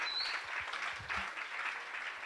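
An audience at a career-opportunities and innovation session applauds, a brief, dense, even burst of many hands clapping at moderate distance.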